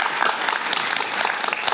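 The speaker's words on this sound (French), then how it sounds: "Il faudrait applaudir Jean-Marie Buchet" An audience at a Q&A film event applauds filmmaker Jean-Marie Buchet, a dense, continuous wash of many hands clapping at once, steady and fairly loud throughout.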